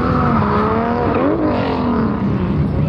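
A drift car at a drift competition slides and spins out on the track, its engine wailing loudly with rising and falling pitch and tire noise throughout, with no pauses.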